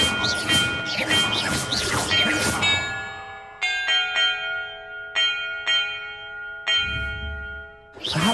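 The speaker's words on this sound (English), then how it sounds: "Perhaps the map contains clues about the order I'm supposed to ring the bells in." Tuned bells in the video game Hogwarts Legacy, struck one at a time in an uneven sequence of about five to six clear, ringing strikes with long sustained tones, following a burst of brighter chiming at the start.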